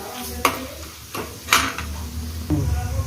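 Chana dal, urad dal and dry red chillies fry in a pan for citron pulihora, a steady background sizzle broken by a few sharp clinks of a spoon stirring against the metal.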